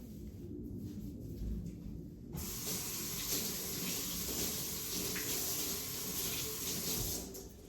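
Tap water runs into a sink while herbs are washed, starting as faint splashing and then opening into a steady, close hissing stream that continues to the end, with no voices.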